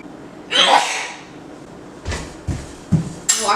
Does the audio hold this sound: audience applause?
no